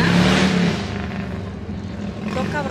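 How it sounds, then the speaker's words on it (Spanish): Loud motorcycles pass on a street, a broad engine roar that swells at the start then fades slightly, steady throughout with no talk. "Con esas motoras que hacen tanto ruido."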